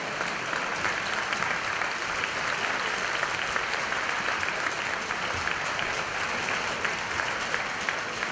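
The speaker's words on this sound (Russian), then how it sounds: "Сергей и Ольга Коновальцевы, ваши аплодисменты!" Audience applause at a dance competition, the Champions' Duel 2013, with a dense, steady clapping crowd that holds level throughout at moderate volume and no talk over it.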